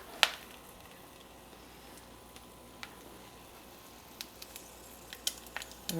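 Eggs frying in a pan for a homemade breakfast, giving a quiet, steady sizzle broken by a few sharp pops and crackles, with no talking.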